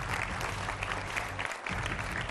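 Studio audience applause welcoming guests to a Hindi TV political debate: steady, dense clapping that fills the whole stretch at moderate loudness, with no talk over it.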